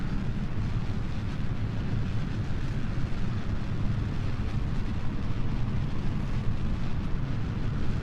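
A rocket engine roaring at full throttle during launch in Kerbal Space Program, a steady, loud, broadband rumble sustained evenly throughout with no talk.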